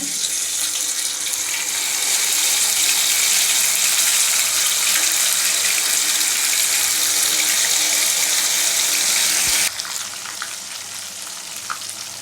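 Raw banana slices frying in hot oil for a South Indian raw banana chili fry, a loud, continuous close-up sizzle that thins out abruptly near the end.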